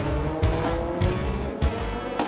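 A Race of Champions car is driven hard, its engine revving loud and near with repeated tire squeals and skidding bursts.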